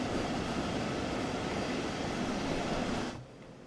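An IC2 double-deck intercity train in Train Sim World 2 rolls along toward Dresden with a steady rumble of wheels on rails that cuts off sharply near the end.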